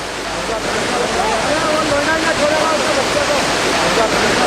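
Fast-flowing river water in flood rushing loudly and continuously, a dense close roar with no pauses.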